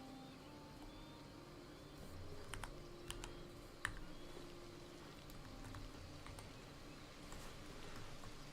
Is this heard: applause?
no